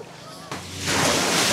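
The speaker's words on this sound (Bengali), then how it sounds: "বিশাল বিশাল গর্জন আর ঢেউ দেখুন" Roaring sea surf at Cox's Bazar beach: a low wash of water suddenly swells into a loud, broad crashing rush of a big wave breaking close by.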